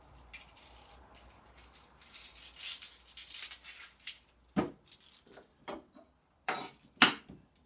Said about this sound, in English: I cut the ends off, slice through there, peel it off.